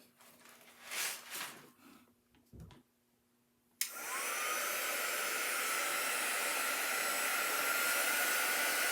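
A few faint handling noises, then a hair dryer switches on sharply and blows a loud, steady, close whoosh, drying ink on a sweatshirt.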